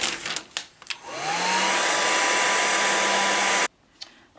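A heat gun runs close by, warming a Mercedes-Benz 300TD W123 rear speaker panel: a loud, steady whooshing blower roar that spins up, holds for about two and a half seconds, then cuts off abruptly, with handling clicks around it.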